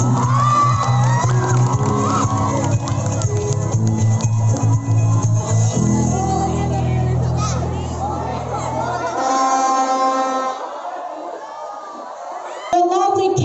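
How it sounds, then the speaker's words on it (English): A loud crowd at a university gay pageant cheers, whoops and shouts for candidates in national costume, the dense roar sustained for several seconds before thinning out, with music and voices mixed in. "Let's give them a round of applause."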